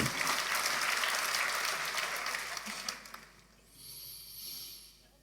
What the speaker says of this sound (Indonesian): Oke, tepuk tangan boleh.